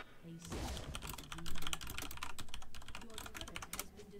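Rapid, irregular clicking of computer keyboard keys during a League of Legends session, with bursts of close typing over faint game sounds and some low speech in the background.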